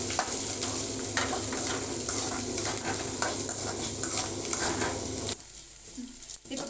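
Small onions and curry leaves sauté in a pan for a country chicken curry, a steady close sizzle with frequent stirring scrapes that drops away near the end.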